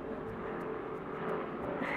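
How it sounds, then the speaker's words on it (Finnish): A helicopter passing overhead, a steady droning engine and rotor rumble that holds constant and fairly loud for the whole moment, with no voices over it. "Helikopteri!"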